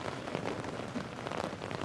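Light rain falls outdoors at a cricket ground, a dense, steady patter of drops on surfaces with no talk over it.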